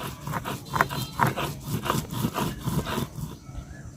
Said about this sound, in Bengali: মশলাটা আমি সুন্দর করে বাইটটা নিচ্ছি।